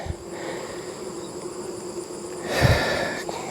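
Honeybees hum in a close, continuous drone at the hive, with a brief louder swell of buzzing near the end.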